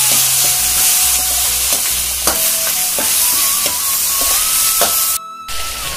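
Peas and chopped tomato are stirred in a sizzling pan for bread upma, with a steady loud frying hiss and a spoon scraping and tapping at an irregular rhythm.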